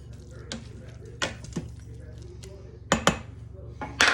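A spoon scrapes and clinks against the inner pot of an Instant Pot while sausage casserole is stirred, a few scattered knocks and wet squishes close by under quiet background noise.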